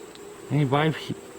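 Honey bees at a hive give off one brief buzzing hum, a close drone lasting about half a second that rises over a quiet background before fading.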